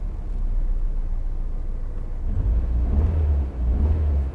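A 1995 Nissan 200SX engine idles with a steady, low rumble droning close by without pause, its deep hum growing slightly heavier partway through.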